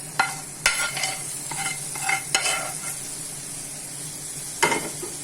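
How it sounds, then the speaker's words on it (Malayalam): Prawns being sautéed in oil in a pan give a soft, steady sizzle, broken by a handful of sharp scraping clacks as a spoon stirs them, close up with no talking. "നന്നായിട്ടൊന്ന് സോട്ട് ചെയ്ത് കൊടുക്കുക."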